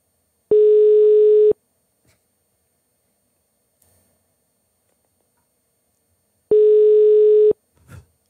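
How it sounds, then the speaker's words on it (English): Outgoing telephone ringback tone: two steady one-second tones separated by a long silent gap, loud and clean with no talk. "Why are the rings so spaced apart?"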